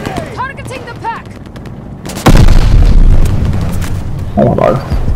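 Heavy explosion in the Vanguard war game as artillery is destroyed: a sudden loud boom follows a stretch of shouting voices, then a long rumbling roar with scattered blasts and battle noise, with voices calling over it.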